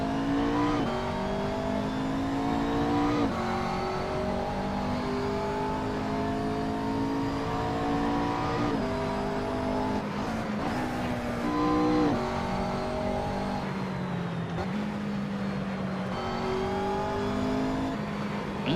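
A car laps the Cadwell Park race track, its engine droning steadily from the cabin and rising and falling in pitch through gear changes and acceleration, with no talk.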